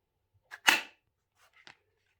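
A custom LUPO 2.0 hunting knife seats into a snug-fitted kydex sheath with a sharp click, preceded by a faint scrape, then a softer double click follows about a second later, all close and with no talking.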